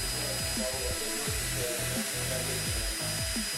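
A small power drill whirs in repeated short bursts, spinning 33-gauge wire around 22-gauge wire to wrap a coil, spinning up and winding down several times close by, with a steady high hum behind it.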